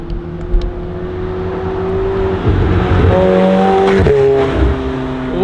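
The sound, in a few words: McLaren 720S supercar driving past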